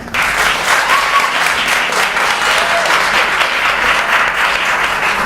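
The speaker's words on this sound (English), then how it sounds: "You can applaud her." A school audience at a poetry recitation finals applauds a high school contestant, a dense, loud burst of many hands clapping that holds steady for several seconds, close and sustained.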